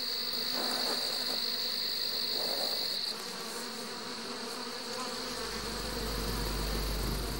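Bees in a hive around a raiding death's head moth buzz in a dense, continuous drone that stays steady and fairly loud throughout, with no voices.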